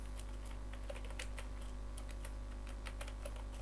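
Steady, rapid typing on a computer keyboard, clicks close and distinct over a constant low hum, with no voices.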